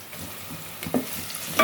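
Chili powder frying in a pan on low heat, stirred with a spoon: a close, continuous soft sizzle with a couple of scraping stirs and a brief clack at the end.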